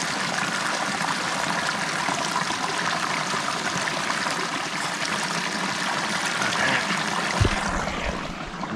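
Close, steady flow of Bear Creek at a canyon campground, the water gurgling and splashing continuously with a brief thump near the end.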